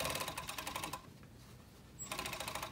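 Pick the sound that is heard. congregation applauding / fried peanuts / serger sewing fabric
serger sewing fabric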